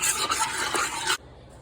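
Seasonings of garlic powder, parsley, salt and cayenne stirred into a pot of sauce piquante, a loud close scraping swirl of a spoon through thick liquid that stops abruptly, leaving near quiet.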